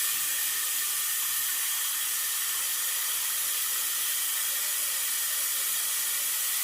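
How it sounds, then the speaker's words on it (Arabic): Tap water runs into a cooking pot in a home kitchen, a steady, even hiss and splash that continues unbroken from start to finish with no talk. "وهبدأ احط عليها مية"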